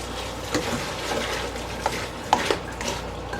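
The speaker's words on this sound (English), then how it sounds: "Just enough water on the apples to be able to stir them around" Apples being stirred in a little water in a large cooking pot, with soft sloshing and a few sharper knocks and scrapes of the utensil against the pot, fairly close and quiet.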